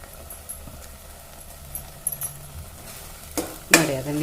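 Garlic and a spoonful of oil stirred in a pan for a Kannada kusubi palya, giving soft scraping and light sizzle at low level, with a sharper burst of clatter near the end.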